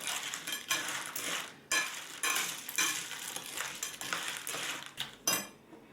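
Roasted pistachios being stirred through a salty flour mixture in a metal pan, rapid scraping and rattling strokes in irregular bursts with brief pauses, close and fairly soft, no talk.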